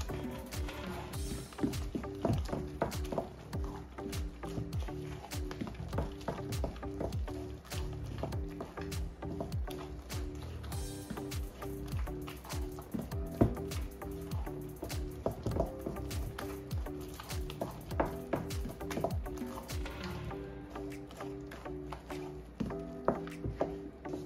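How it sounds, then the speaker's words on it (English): Eggs and wet ingredients are mixed into flour in a bowl with continuous rhythmic wet sloshing and spoon knocks, close and fairly quiet throughout. "mix up all the wet together with the flour"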